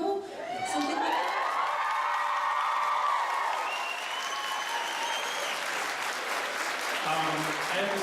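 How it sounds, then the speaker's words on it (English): Convention panel audience at the 2012 Edmonton Expo applauding, a dense, sustained roar of clapping with cheering and whoops layered over it and a few voices rising above the crowd. "we should give another round of applause"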